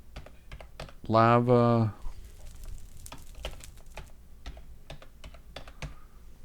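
Quick keys clatter on a computer keyboard for a Minecraft Project Ozone 3 ore dictionary filter, a run of sharp close clicks, with a brief spoken word near the start.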